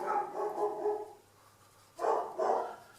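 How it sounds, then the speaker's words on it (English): A dog barks in two short bursts, a cluster of barks at the start and another pair near the end, fairly loud and close in a quiet indoor room. "Every time I do these videos, the dog barks like crazy"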